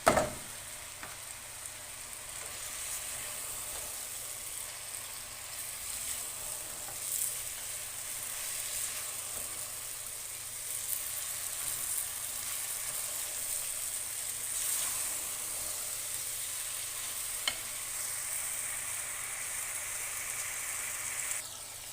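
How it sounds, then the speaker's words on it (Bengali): Vegetables frying in oil with spices for a sabzi, a steady close sizzle and hiss that continues throughout, with faint occasional stirring. "এই দেখেন, তেলে ভাজছি, কত তেল জমে রয়েছে"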